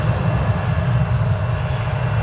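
A Boeing 737-800 jet aircraft at DFW Airport produces a steady, loud engine roar with a dense low rumble. The roar holds nearly constant throughout and no voices are heard.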